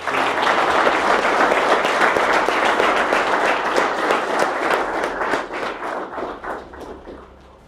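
Audience clapping for a man named Eric at a Seton Hill gathering, a loud, sustained round of dense applause that slowly tapers toward the end.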